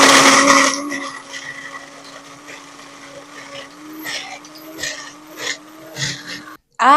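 A kitchen blender mixes a filling for southwestern eggrolls. A loud whir at the start settles into a steady hum, broken by uneven knocks and surges before the motor cuts off.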